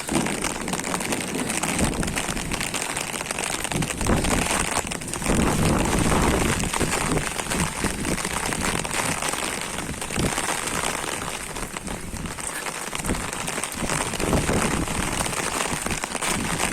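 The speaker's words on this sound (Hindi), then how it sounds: "साल की पहली बारिश के मजे लो।" The season's first monsoon rain pours steadily onto a home terrace, a dense, continuous hiss of drops spattering close by, with faint bird calls in the background.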